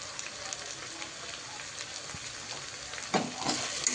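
Spices for a restaurant-style veg biryani, including black masala, red chili, turmeric and asafoetida, sizzle steadily in a hot pan as they are stirred, with a few louder scrapes of the spoon near the end.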